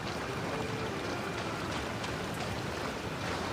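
A steady, soft rush of falling water from a waterfall in the Genshin Impact video game, heard as a continuous even hiss with no talk over it.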